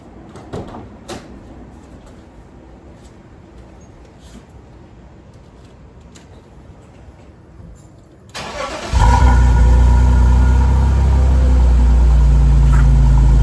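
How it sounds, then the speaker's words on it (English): A small sports car, boosted by an ACMOUNT 2000A portable jump starter, sits quiet with faint background noise, then cranks and fires near the end, settling into a loud, steady running engine close by. "let's go ahead and power the car on"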